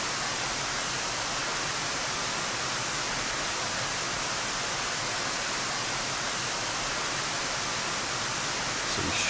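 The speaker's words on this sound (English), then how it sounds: "That white noise." Steady, loud broadband hiss of white noise in the DCS World F/A-18C flight simulator, unbroken and even for the whole stretch with no voices over it.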